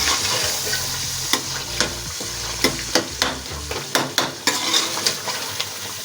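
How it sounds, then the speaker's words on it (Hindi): Masala for chicken karahi stirred and fried over high heat in a karahi, with a steady sizzle broken by a regular series of scraping spoon strokes against the pan, close and fairly loud, no voices. "अच्छी तरह से चला लें"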